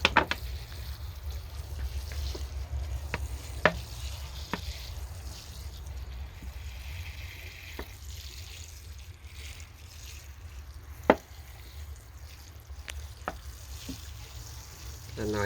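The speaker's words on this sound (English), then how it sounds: "you begin to see the water actually flowing out from underneath" Rainwater trickles and dribbles steadily out from underneath a planter, with occasional small drips and splashes over a low background rumble.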